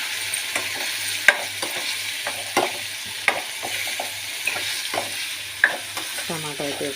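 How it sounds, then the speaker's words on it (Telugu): Tomatoes sizzle steadily in a hot pan while a utensil scrapes and taps against the metal in an irregular rhythm, close and fairly quiet. "ఇప్పుడైతే నేను టమాటా వేసేస్తున్నాను ఫ్రెండ్స్."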